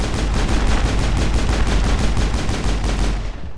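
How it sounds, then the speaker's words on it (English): Dense, continuous automatic gunfire from the video game Mass Effect, loud and close, with rapid evenly spaced shots running throughout and no talking. "Ah, they seem to be shooting me."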